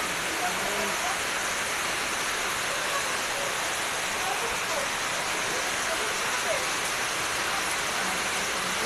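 Heavy typhoon rain pours in a steady, dense hiss during a storm with flooding, unbroken and fairly loud for the whole stretch, with no clear voices above it.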